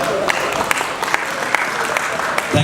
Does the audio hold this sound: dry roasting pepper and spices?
no